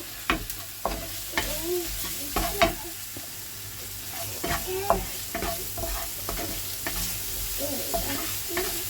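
Boiled mung dal poured into a pan of frying spices and stirred, with a soft sizzle under repeated scraping spoon strokes against the pan, close and moderately loud.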